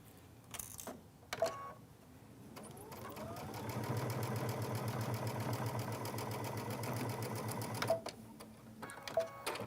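A sewing machine quilts 8.5 by 8.5 inch quilt blocks, starting with a few short stitching bursts and then running as a steady, even whir for about five seconds before stopping and giving a couple more brief bursts.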